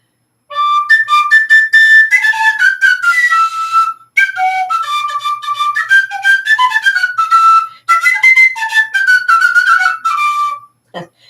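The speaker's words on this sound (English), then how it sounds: "And I have my tin whistle." Tin whistle played solo in a lively, ornamented melody, close and loud, with quick repeated notes and short breath pauses between phrases.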